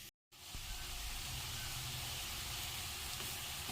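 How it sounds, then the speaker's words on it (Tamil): Cinnamon and cloves sizzle in hot oil for tempering, a soft, continuous hiss that starts after a brief moment of silence and holds steady at low volume, with no talk. "பட்டை, லவங்கம் இதெல்லாம் தாளிக்கிறதுக்கு போட்டுக்கணும்"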